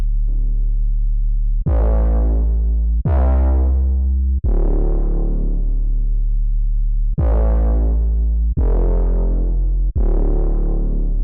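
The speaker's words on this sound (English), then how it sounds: "let's layer this with the other bass and see how they sound together" Layered synth bass notes from a liquid drum and bass sample pack, six loud deep plucked hits, each starting bright and decaying into a sustained low tone, spaced a second or two apart with no voices.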